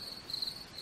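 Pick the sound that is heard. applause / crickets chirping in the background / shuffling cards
crickets chirping in the background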